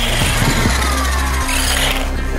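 A Mario Kart 8 Mini Anti-Gravity RC racer, a small remote-control toy car, pulls a wheelie with a loud, steady whirring motor drone that holds throughout and eases off near the end.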